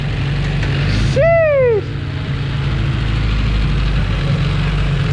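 A freshly rebuilt Honda Prelude engine, with new pistons, rings, bearings and a rod on the original crank, idles after its first start-up. The low rumble runs steadily throughout, a cat meows briefly over it and a voice makes a short exclamation.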